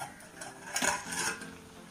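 A short metallic clink and scrape of a pot lid lifting off a simmering dried prawn and mango curry, a brief clatter close by with no talking.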